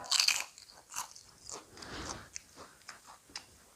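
A crunchy fried pork wonton, dipped in hot instant noodle broth, is bitten with a sharp crackle and then chewed in a run of close, crisp crunches that fade softer toward the end, with no talking.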